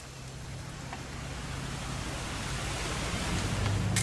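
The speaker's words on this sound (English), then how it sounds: "It's gonna rain the whole weekend," Steady rain hissing through a scene in the video game What Remains of Edith Finch, a constant broadband wash with a low hum beneath and a slight swell near the end, no voices.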